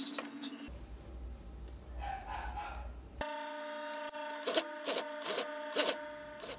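A sewing machine stitches a gathered ruffle onto a long dress, quiet at first, then a humming mechanical drone with several short bursts of faster stitching, heard close.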